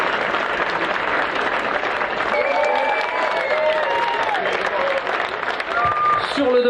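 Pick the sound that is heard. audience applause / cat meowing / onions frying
audience applause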